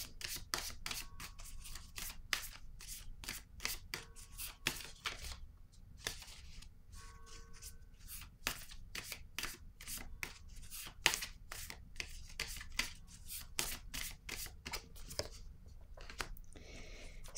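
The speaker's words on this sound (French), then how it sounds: "Je vais piger une autre carte." Tarot cards shuffled by hand in a long, steady run of quick riffling flicks, close and crisp, with small pauses between handfuls and no talking over it.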